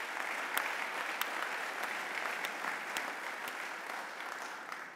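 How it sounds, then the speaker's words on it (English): Delegates at a DAV convention business session applaud together, a steady roar of many hands clapping at moderate volume with a few sharp individual claps standing out. "Please give yourselves and one another a resounding round of applause."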